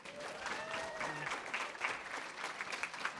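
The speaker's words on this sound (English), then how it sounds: "Please give them a round of applause." Audience at a youth conference applauds two young presenters being welcomed onstage, a steady wash of many hands clapping at moderate distance, with a few faint whistles or voices mixed in.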